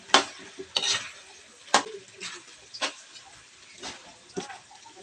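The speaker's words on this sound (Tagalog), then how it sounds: "Lalagay na rin natin yung liver or atay." Liver being fried and stirred for menudo in a pan: scattered sharp utensil scrapes and clinks against the pan over a faint sizzle, close and irregular.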